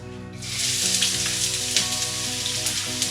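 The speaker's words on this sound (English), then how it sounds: "now olive oil, and we start with onion" Chopped onion frying in olive oil in a pan, the first step of a stuffed lamb loin dish. A steady, close, loud sizzle starts after a brief quiet moment and continues evenly with no talking.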